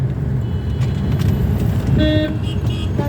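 A car driving on a road toward Hadapsar, its engine and tyre rumble steady and loud, with a couple of short horn toots sounding near the end.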